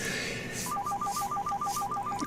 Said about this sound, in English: I hate it when the phone rings when you're doing a webcast.